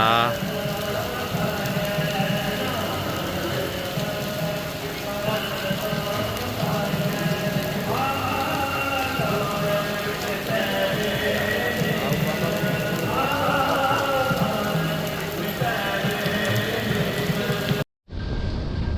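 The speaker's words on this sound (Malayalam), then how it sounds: "ഇതാ ഇപ്പം പഞ്ചാബിൽ മഴ പെയ്യുന്നുണ്ട്" Steady rain patters continuously on a surface in Amritsar, Punjab, a dense even hiss throughout, with faint voices and traffic mixed in beneath.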